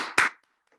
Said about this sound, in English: I would like to actually give them a round of applause